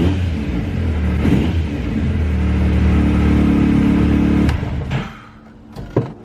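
A 2019 Yamaha YXZ1000R side-by-side, fresh from an oil change during its 20-hour break-in, idles loudly, rises into a steady sustained rev, then drops away, with a couple of short sharp blips near the end.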